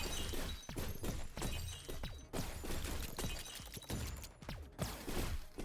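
Shatter effect from a small incremental space shooter game, rapid repeated glassy crashes and breaking bursts following one another in quick succession, fairly faint with no talking.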